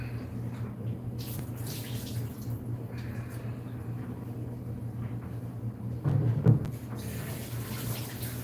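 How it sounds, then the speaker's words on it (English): Water runs from a tap into a basin in a steady, faint, even hiss that continues throughout, with a low background hum and a brief louder clatter near the end. "Now we'll get this water going into there."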